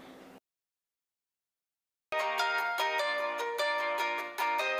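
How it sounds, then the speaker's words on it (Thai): A misplaced phone sounds its find-my-phone alert, a loud repeating chime of bright electronic tones starting abruptly after a moment of silence and continuing steadily. "กดเพื่อที่จะให้โทรศัพท์นั้นส่งเสียงนะคะ"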